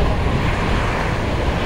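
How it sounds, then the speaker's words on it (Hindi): Cool wind blows steadily outdoors in Delhi as rain begins, a dense, rushing roar buffeting the microphone throughout with no break or speech. "ठंडी हवा चल रही है एकदम बढ़िया।"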